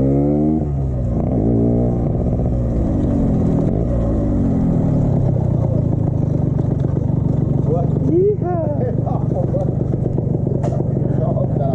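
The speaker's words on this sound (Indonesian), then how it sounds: "pak Bambang, sekalian manasin motor lah ya" A Yamaha RX King motorcycle engine idles and warms up nearby with a steady low rumble and a few revving swells, while people talk over it.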